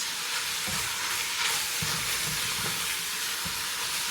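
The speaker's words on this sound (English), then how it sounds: "the hamburger is going to want to start browning in chunks" Hamburger meat browns in a pan over medium-low heat, giving a steady, moderately quiet sizzle and crackle with occasional soft scraping thumps from stirring.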